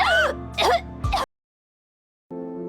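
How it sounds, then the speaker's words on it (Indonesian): A woman coughing after one sip of a bitter potion, three short harsh throaty bursts close together, then a pause of silence before a brief tonal sound. "baru saja satu tegukan dirinya sudah batuk-batuk"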